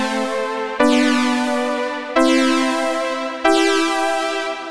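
Dry electric keys with no effects, playing three sustained chords in a row, each struck note ringing cleanly with bright harmonic overtones and slowly fading before the next one lands; no voices.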